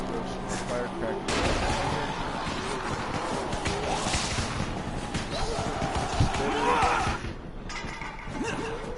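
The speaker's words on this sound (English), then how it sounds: "Throw some more firecrackers." Firecrackers go off in the zombie video game Dying Light as a rapid, crackling barrage of loud pops and bangs under dense game noise, with a player talking over it.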